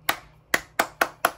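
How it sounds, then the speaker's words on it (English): Five sharp hand claps from one person, close and crisp, spaced unevenly at roughly quarter-second to half-second gaps, with a brief pause after the first clap, over a quiet background after finishing a large hamburger steak meal. "Gotta give myself a round of applause."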